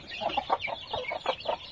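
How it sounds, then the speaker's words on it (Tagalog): Farm chickens cluck in short, quick bursts of several close, fairly soft calls, with no talking. "Ito yung mga manok natin."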